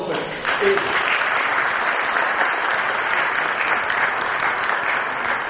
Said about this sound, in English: let's have a round of applause for it.